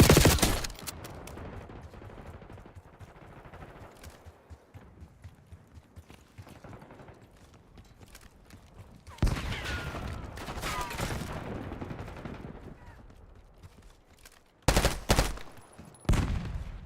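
Gunfire in Call of Duty: Black Ops 6 bursts out in several loud volleys, with a quieter stretch of game ambience between the shots.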